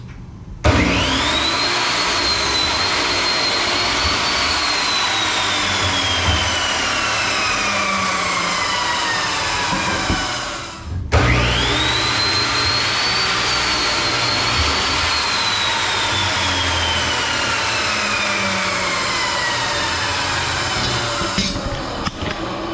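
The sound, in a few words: saw cutting wooden bed side rails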